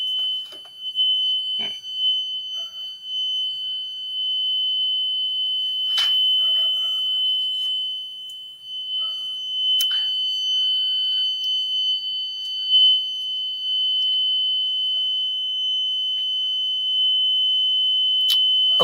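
An electronic buzzer at a maker conference sounds a sustained, piercing steady tone that holds almost without a break, with faint clicks and movement noise around it.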